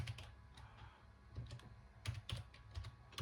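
Soft, uneven clicks of someone typing on a computer keyboard, close by and quiet, with brief pauses between bursts of keystrokes.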